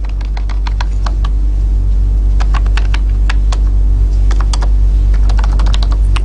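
Fingers type programming code on a computer keyboard in bursts of quick, close clicks separated by short pauses, over a steady low hum.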